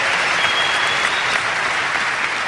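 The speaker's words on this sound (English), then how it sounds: "You clap, you're awake." Steady, dense audience applause from a large crowd at a talk, continuous and loud throughout with no gaps.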